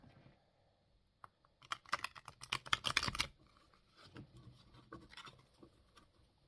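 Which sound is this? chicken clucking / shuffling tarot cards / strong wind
shuffling tarot cards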